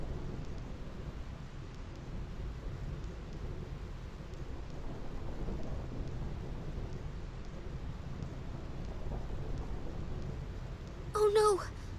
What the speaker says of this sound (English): Thunder Plains.